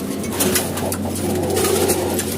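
Pigeons cooing at feeding time, a low steady murmur of several birds close by with a constant background hum and no talk.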